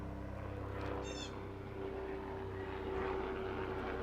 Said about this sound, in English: This is a guy that has a helicopter and comes on Sundays, every Sunday.